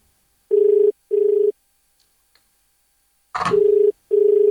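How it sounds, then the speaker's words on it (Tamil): A telephone rings in repeated short electronic bursts, four tonal pulses in pairs, loud and close, with a brief rustle between them and no speech. "ஃபோன் வருது."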